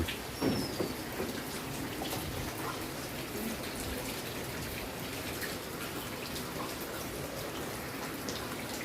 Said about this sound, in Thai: คือฝน